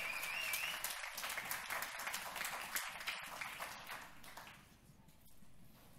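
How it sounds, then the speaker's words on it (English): An audience at the Microsoft Lumia 830 launch event applauds steadily, then the clapping tapers off toward the end. "You can clap, absolutely."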